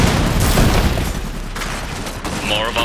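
Gunfire from a battle in the video game Iron Harvest, a dense, continuous barrage of loud shots and booms that runs through the whole clip. Game sound effects play in the background.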